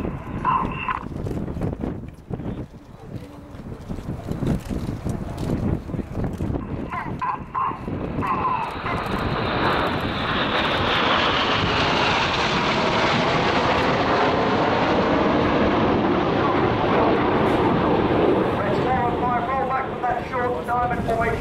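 RAF Red Arrows display jets flying in a short diamond formation at the Royal International Air Tattoo, a rising, swelling roar that builds and sweeps past over a public-address commentator and crowd noise.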